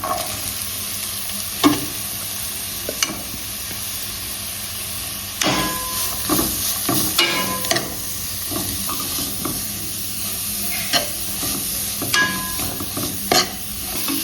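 Onions, carrots, cabbage and beans sizzle steadily in a hot pan while a spatula scrapes and clanks against it now and then, close up, with no talking.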